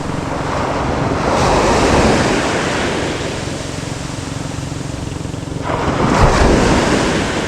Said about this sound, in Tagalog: malakas ang hangin, kaya yan. Kaya meron ng alon-alon.